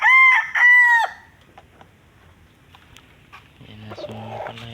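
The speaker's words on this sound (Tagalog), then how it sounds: "Yan mga kamanok ko." Backyard chickens and a rooster in a small village coop: two loud, close crows open the scene, followed by a quiet pause and then softer, steady clucking and fowl chatter near the end.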